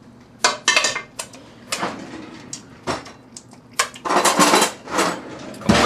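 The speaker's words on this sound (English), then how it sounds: "Come over here with your ladle and get that in your casserole dish." Sweet potatoes scooped with a ladle into a casserole dish, a series of clanks and metallic scrapes against the dish in irregular bursts, fairly close, with no talking.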